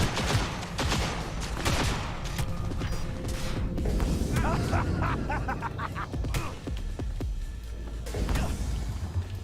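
Cyberpunk 2077 gunfight with rapid volleys of gunshots, crashes and mechanical clatter over nearly ten seconds, alongside intermittent talking.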